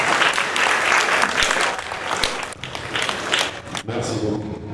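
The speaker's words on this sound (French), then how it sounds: "sous vos applaudissements." Audience applause at an Africa Day 2025 ceremony at the African Renaissance Monument. Sustained dense clapping from a large crowd fills the scene and then tapers off near the end.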